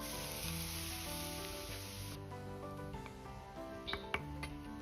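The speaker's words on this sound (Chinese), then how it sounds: "油温烧至6成热，浇入辣椒面中，激发出香味" Hot scallion oil poured onto chili powder sets off a strong, bright sizzle that hisses loudly for about two seconds, then settles to a softer crackle with a few light clinks, over faint background music.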